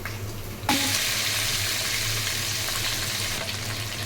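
Hot oil sizzles and crackles steadily as mustard seeds, urad dal and chana dal fry for tempering, the sizzle starting suddenly after a brief quieter moment and holding without talk.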